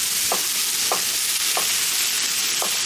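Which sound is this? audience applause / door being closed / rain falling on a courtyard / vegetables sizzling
vegetables sizzling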